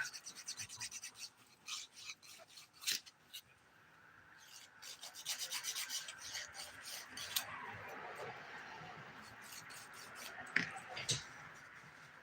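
Nail filing with the 180 grit side of a nail file, heard as faint, close, intermittent rasping strokes in short bursts, steadier toward the middle, with brief soft sounds between the strokes.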